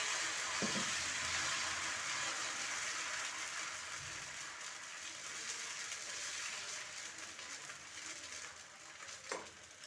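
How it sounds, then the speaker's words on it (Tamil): Dosa batter with kalyana murungai leaves sizzles steadily on a hot stone griddle greased with sesame oil, a constant close frying hiss filling the whole stretch with a couple of faint clicks and no talking. "இப்போ தோசை ஊற்றலாம் வாங்க."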